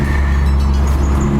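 A Mazda Miata on the road gives a steady, loud low engine drone and road rumble from inside the cabin, with no clear change in pitch.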